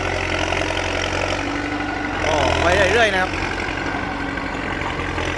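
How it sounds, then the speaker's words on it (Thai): A D50A bulldozer's diesel engine, running hot in hot weather, rumbles steadily at idle with a brief revving surge midway, while someone talks over it. "เร่งเครื่องมาเยอะนะครับ ความร้อนขึ้นนะครับ"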